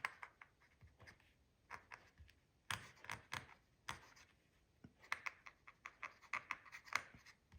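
Pilot fountain pen with a scratchy nib writing on paper, close and quiet: irregular bursts of dry scratching strokes with short pauses between words.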